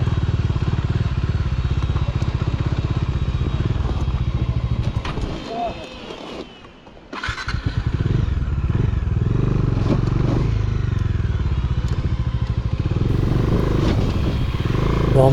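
A Bajaj Dominar motorcycle rides over a rough, broken road, its engine droning loudly with clattering and scraping from the bumpy surface, dipping briefly midway before resuming; voices talk over it.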